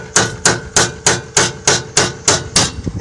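A hammer taps a car axle during ball joint replacement on a 1997 Acura Integra GS-R, striking nine times in a steady rhythm of sharp metallic blows, loud and close, with no talking.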